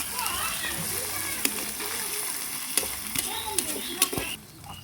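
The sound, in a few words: meat added to hot oil in wok, stirred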